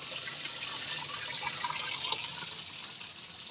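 Water rushes steadily from a tap into a container, a continuous hissing splash at moderate volume with no talking.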